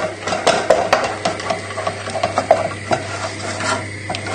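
A spoon stirs milk into a sauce in a pan, making repeated close clicks and scrapes against the metal in an uneven rhythm, with no talking.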